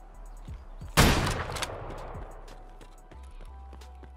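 A single loud gunshot blast with a ringing tail in the video game Escape from Tarkov, amid faint footsteps and scattered clicks, fairly close.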